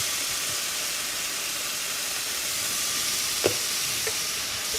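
Ground beef sizzles steadily in a pan for a teriyaki beef bowl, a constant hiss with a brief scrape of stirring near the end.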